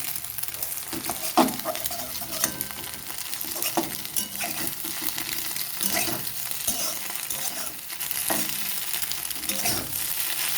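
Fried egg sizzling steadily in hot oil in a pan, with repeated scraping stirs of a spatula throughout, continuous and close.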